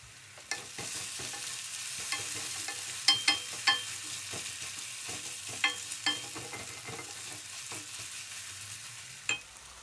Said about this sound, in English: it's been about a couple of minutes that I've been caramelising the onions